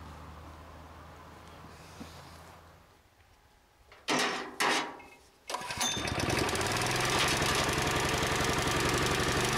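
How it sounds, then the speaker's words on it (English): A jackhammer breaking through earth, tree roots and stone while a grave is dug starts up after a few short bursts, then pounds continuously, loud and close, with a dense rapid hammering rattle. "he has no choice but to bring out his jackhammer"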